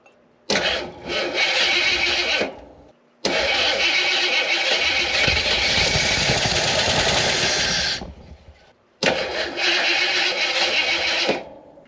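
A Jeep Wagoneer engine cranking over on a newly replaced starter in three long, loud bursts of steady churning, separated by short silent pauses, never catching.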